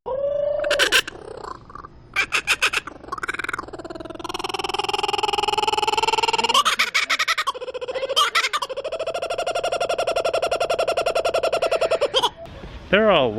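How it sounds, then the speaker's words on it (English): Kookaburra's loud, close, rising-and-falling cackling call in repeated bursts, with a few short gaps between phrases and no talk over it. "why the kookaburra is my favorite bird is because they sound like this"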